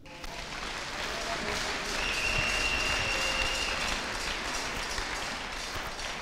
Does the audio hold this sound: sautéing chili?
no